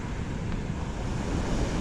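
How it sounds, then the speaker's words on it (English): Waves dump heavily onto a beach in northeasterly winds, a continuous close roar of surf mixed with wind buffeting the microphone. "The waves are really dumping down onto the beach"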